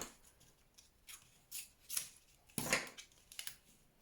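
Scissors snip through backing paper in a craft setting, a handful of short crisp cuts spaced irregularly, close and fairly clear against a quiet room.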